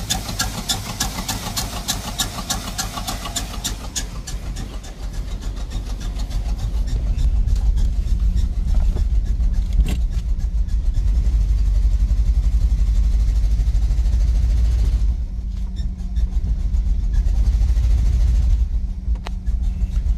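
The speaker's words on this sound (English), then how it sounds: "Wow, this doesn't run so good, does it? It's got a real misfire." A wrecked 1987 GMC 4x4 pickup with a bad misfire runs rough, a low uneven engine rumble with irregular stumbles that grows louder partway through and stays close throughout.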